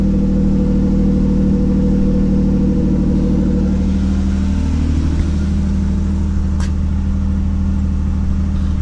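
A Ford Ranger's 4.0-liter engine runs steadily just after a fuel pump replacement, a loud, continuous low idle hum with a slight shift in tone partway through and no speech.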